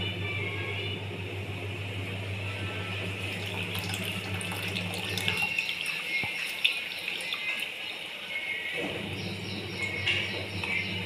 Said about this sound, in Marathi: हे चिंचेचं पाणी टाकते मी.